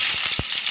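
Garlic dropped into hot oil in a heated pan with mustard and fenugreek seeds for a Kerala fish curry, giving a steady close hiss of frying with a few soft low thumps.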